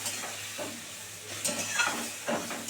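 Ground spice paste sizzles and spits as it fries in hot oil for a rohu fish curry, a steady hiss broken by bursts of crackle as it is stirred, close and alone.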